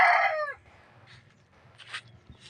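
A fighting rooster crows loudly and close by, a strained, harmonic call that cuts off abruptly, followed by faint rustling and low background hum.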